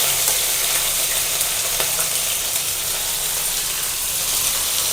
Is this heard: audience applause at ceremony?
no